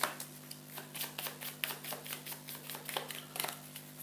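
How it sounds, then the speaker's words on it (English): Rapid riffling and flicking of board game cards being shuffled close up, quick papery bursts over a faint steady hum. "Shuffle together the yellow level 3 cards with the other level 3 cards."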